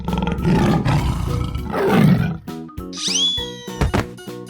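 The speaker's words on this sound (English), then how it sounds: "Tiger." A tiger roars in a 3D animal slide video game: a loud, sustained roar fills the first seconds, then gives way to bright synthetic game jingles and sound effects.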